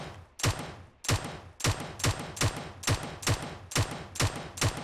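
Gunfire in the mobile shooter PUBG Mobile: a sharp single shot, then about nine evenly spaced, punchy shots with decaying tails, loud and close.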